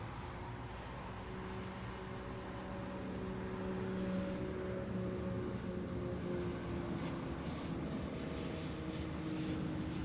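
Aircraft departing Zurich Airport on runway 28, heard as a steady distant jet engine roar that builds slightly partway through and holds, a continuous low rumble with no voices.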